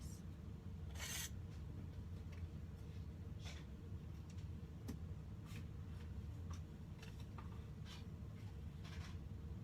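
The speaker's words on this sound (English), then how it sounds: "we score that line, fold over and trim, then we'll line up the next piece" Scoring a seam line, folding back the paper and trimming fabric on a foundation-pieced humpback whale quilt block: faint, brief scraping and rubbing strokes scattered over a low steady hum, close by, with no talking.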